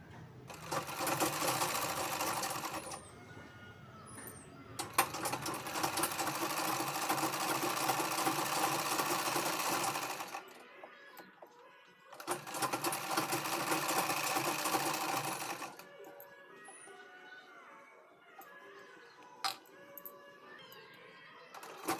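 A sewing machine stitches a lined blouse in two long, steady runs of loud, close whirring, with quieter handling and rustling of fabric in the pauses between.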